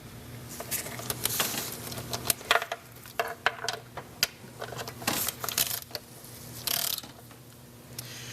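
Torque wrench tightening the intake manifold bolts on a GM 3.8 V6, giving faint ratcheting clicks and metallic clinks in irregular clusters over a quiet garage background.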